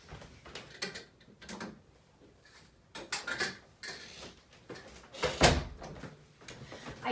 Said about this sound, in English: I closed the door and I put my new Danibuttons filming in progress sign from Emily on the door